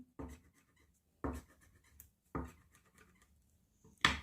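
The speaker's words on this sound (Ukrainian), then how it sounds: "беремо свічку, сильно натискаємо на аркуш паперу і малюємо хмаринки" Four short, separate scratchy strokes of a candle pressed hard and rubbed on paper, each one brief and fairly quiet, spaced about a second apart.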